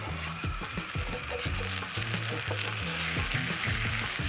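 Steak sizzles steadily in a skillet over a campsite cooking setup, a close, continuous crackle with a few soft thumps and scrapes as the meat is flipped. No one talks.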